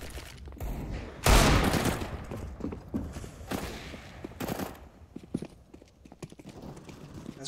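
Counter-Strike match on the Inferno map with bursts of in-game pistol fire: several sharp, loud shots stand out among clattering footsteps and background game noise.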